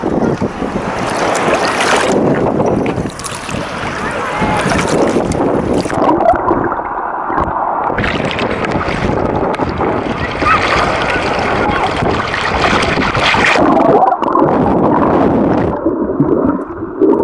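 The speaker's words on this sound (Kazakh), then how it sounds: "бірақ жел қатты тұрып жатыр" Strong wind buffets the microphone at a Barcelona beach, roaring and gusting continuously over the surf of the sea, with a voice speaking briefly beneath it.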